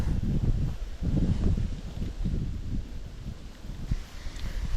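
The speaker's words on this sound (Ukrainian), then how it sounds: "Вітер сьогодні дуже сильний" Strong wind over a Norwegian coastal strait buffets the microphone in heavy low rumbling gusts, continuous and loud, with a faint rustle in the background.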